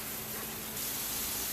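Water sprayed from a hose over pickling jars, a steady close broadband hiss that swells slightly partway through, with no talk.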